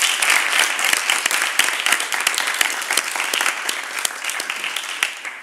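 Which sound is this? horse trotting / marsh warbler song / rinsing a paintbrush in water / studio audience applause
studio audience applause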